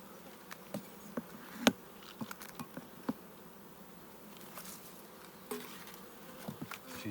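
Honey bees swarm around an open hive, a close, continuous insect buzz with small taps and knocks from hive handling scattered through.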